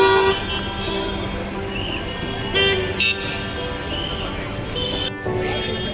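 Free pilgrim buses run on the Tirumala ghat road, with several short car horn toots over steady traffic rumble, fairly close and moderately loud.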